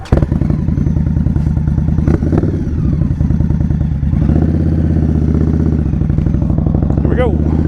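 Indian Scout Bobber motorcycle ridden up a mountain road, its engine a loud, steady close-up drone with shifting revs and a brief throttle change midway, running continuously throughout.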